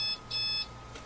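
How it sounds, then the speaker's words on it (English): Two short electronic beeps from a faulty Fluke PM3370B oscilloscope under repair, each a clear high tone, followed by a quiet hum. "It beeps at me, doesn't do anything"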